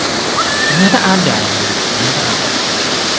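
The Si Karim waterfall in highland Wonosobo, at about 1,800 metres, pours with a steady broadband rush. A person speaks briefly over the constant water noise.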